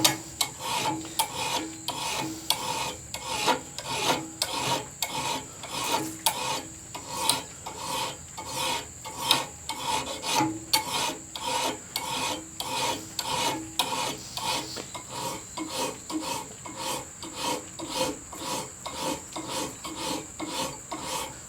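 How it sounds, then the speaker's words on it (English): A hand file rasping along the bevel of a steel knife blade, with steady, evenly spaced scraping strokes repeating close up for the whole stretch, each stroke cutting in one direction, with no talking. "I'm only cutting one way with the file."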